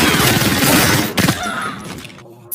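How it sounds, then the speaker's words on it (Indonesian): A soldier sprays bullets at cartel troops in a film scene, a loud sustained burst of automatic fire with clattering, shattering impacts that thins into scattered thuds and a final sharp hit. "Nero langsung memberondong mereka dengan peluru."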